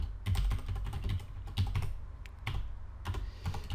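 Rapid keystrokes on a computer keyboard as code is typed out, arriving in short clustered bursts with brief pauses between them, close and fairly quiet, with no voices.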